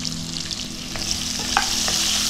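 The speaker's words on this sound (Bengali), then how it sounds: "আলুগুলো নাড়িয়ে চাড়িয়ে নুন হলুদটা যাতে সবটার গায়ে মেখে যেতে পারে সেইভাবে হালকা ভেজে নেব।" Potatoes fry in a pan with salt and turmeric for a Bengali pumpkin-greens ghonto, a steady close sizzle and crackle with light scraping and stirring knocks on top, no voices.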